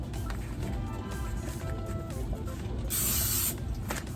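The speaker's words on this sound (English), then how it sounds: "I need to put some, just a little spray on the bottom of the parchment paper" Cooking spray hissing onto parchment paper in a kitchen, a bright burst of spray lasting under a second, close up over a steady background hum.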